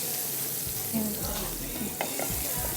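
Paneer frying in butter in a pan, a continuous close sizzle with a few utensil stirs and scrapes, no voices.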